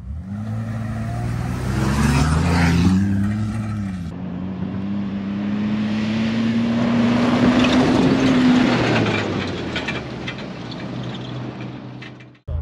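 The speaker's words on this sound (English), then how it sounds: "just put it in four high traction, and then we'll just do like 100 feet just to see the difference in like right at the rip" A supercharged Chevrolet Colorado ZR2 accelerates hard off-road in four-high, its engine revving up into a rising, sustained drone with supercharger whine, loud and steady before tailing off.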